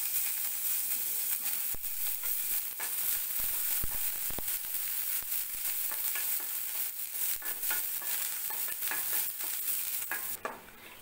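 Ingredients for kappuarisi, a sweet rice dish, fry in a pan with a continuous bright sizzle and repeated stirring scrapes throughout, ending with a brief drop.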